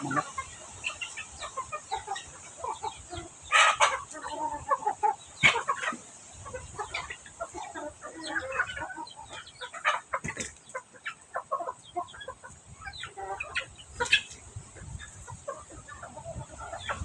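Several chickens cluck and squawk in bursts over a steady background hum, with sharp calls rising now and then from a nearby flock.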